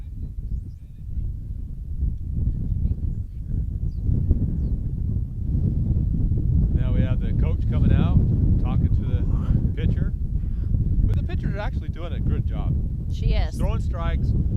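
Wind buffets the microphone at an outdoor high school baseball game, a steady low roar throughout, with a voice talking over it.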